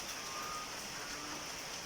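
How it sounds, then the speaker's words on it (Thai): Heavy rain pouring down by a canal for about 40 minutes, a dense, even hiss of drops on surfaces, steady and unbroken. "ฝนตกหนักมากเลยครับ"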